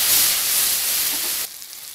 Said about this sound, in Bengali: সমস্ত গুঁড়ো মশলাগুলো। এবার দিয়ে একটু ফ্রাই করে নিতে হবে।